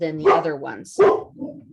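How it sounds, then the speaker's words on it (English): A dog barks twice, close and fairly loud, with short yappy barks that overlap a person speaking. "Sorry about my dog barking."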